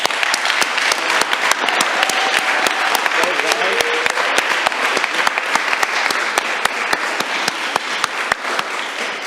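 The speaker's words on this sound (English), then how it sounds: "Let's clap it up." Applause at a city council meeting for a winning team from Bayamón, Puerto Rico, a dense, steady roomful of clapping that fills the space at full volume, with voices faintly beneath it.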